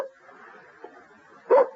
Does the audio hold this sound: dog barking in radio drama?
yes